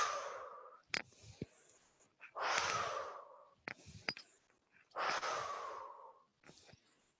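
Three long, heavy breaths, each a deep audible exhale like a sigh, come during a morning breathing exercise done while swinging the body, separated by soft clicks and small noises, close and fairly quiet.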